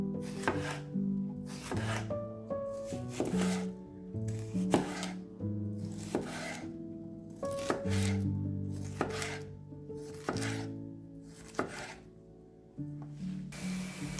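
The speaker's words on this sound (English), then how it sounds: "Chop 1 red bell pepper into small pieces." Knife chopping a red bell pepper into small pieces on a board: regular, close, crisp strikes roughly once a second, with tonal music playing underneath throughout.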